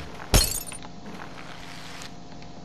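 A single sharp crash of shattering glass in the physics game Happy Wheels, loud and close, followed by a faint tinkle of falling shards, no talking.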